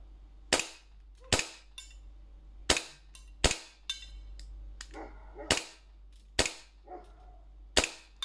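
Shots from a KJW Colt 1911 airsoft pistol fire one at a time at a steady pace, about ten sharp close cracks separated by quiet gaps with faint mechanical clicks.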